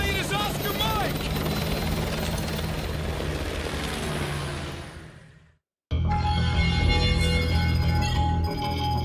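Military helicopter in the Call of Duty: Modern Warfare 2 video game, a loud continuous rotor thrum and engine roar that fades out, cuts to brief silence, then returns at full strength.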